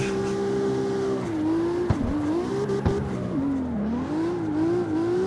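Car drift racing in the CarX Street video game, with a loud steady engine drone rising and falling in pitch as the car slides, and a couple of sharp knocks partway through.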